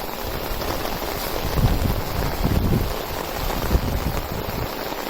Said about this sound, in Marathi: जोरदार पाऊस पडलेला आहे आणि खूप बरं वाटतं आहे.